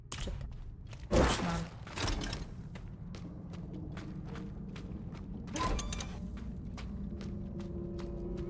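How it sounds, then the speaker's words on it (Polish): Creaking in Diablo IV, slow wooden or metal creaks with soft footstep-like thumps, heavier groans around the second and sixth seconds, moderately loud over a dim ambient game background with no talk. "słyszę takie skrzypienie"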